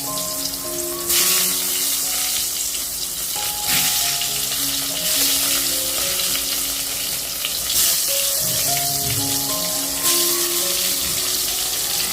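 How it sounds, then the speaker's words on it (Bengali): Eggplant slices frying in extra oil in a pan, a strong steady sizzle and crackle with occasional stirring, accompanied by faint background tones. "টুকু তেলে বেগুন ভাজা হবে না তো সেই কারণে আর একটু তেল দিয়ে দিই"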